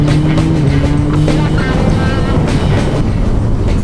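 A motorcycle on the move gives a loud, steady engine drone mixed with rushing wind and road noise, with a low engine tone that shifts slightly as it rides.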